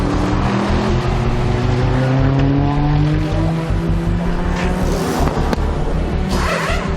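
A Subaru STI race car in Germany runs with a continuous loud engine roar. Rising and shifting tones follow as it accelerates through the gears.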